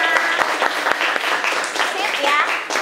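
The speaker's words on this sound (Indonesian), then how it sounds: "tepuk tangan untuk kita semua." Schoolchildren in a classroom clap together in a brief burst of lively, steady applause, with voices mixed in throughout.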